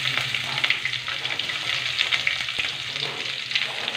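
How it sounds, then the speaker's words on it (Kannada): Onions hiss in hot oil in a pan, a close, steady sizzle marked by small, bright pops and faint stirring scrapes, heard alone with no speech. "ಇಲ್ಲಿ ಬಂದು ಎಣ್ಣೆ ಹಾಕ್ಕೊಂಡು ಇವಾಗ ಈರುಳ್ಳಿ ಹಾಕೋಣ"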